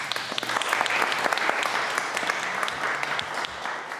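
Wedding guests applaud a couple just pronounced married at a ceremony in Koh Samui, Thailand; steady, dense clapping fills the whole stretch at an even level, with a few sharper individual claps standing out.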